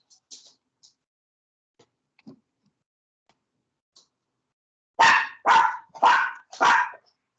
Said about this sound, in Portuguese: não reparem não na minha cachorrinha que tá latindo aqui